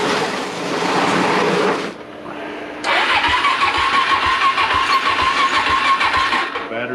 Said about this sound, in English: All right, crank her up.